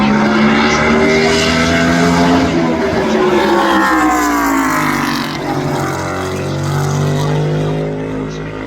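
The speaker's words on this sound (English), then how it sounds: "NASCAR Cup Series race car." NASCAR Cup Series race car at North Wilkesboro Speedway, its engine note loud and close, rising and falling as it accelerates and shifts through gears, with steady crowd or track noise underneath.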